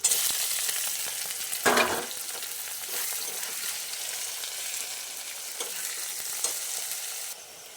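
Chopped onion frying in a pan with dried red chilli, two bay leaves and green chillies, a steady close sizzle with a few brief stirring scrapes, no voices.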